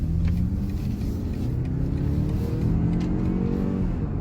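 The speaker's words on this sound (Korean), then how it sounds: "아, 엔진 사운드?" Engine of a BMW X4 (G02) accelerating, a steady low rumbling drone that builds gently throughout, heard from inside the cabin with no talking.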